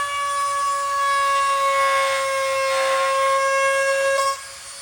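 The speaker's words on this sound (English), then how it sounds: "go back with the Dremel and cut it out" Dremel rotary tool cutting plastic trim during a snorkel install on an ATV, a loud, steady high-pitched whine that holds level and then cuts off near the end.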